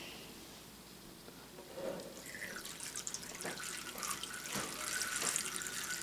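Vinegar pours into a container as a faint, close trickle that grows into a steadier splash and gurgle over a few seconds, with no talking.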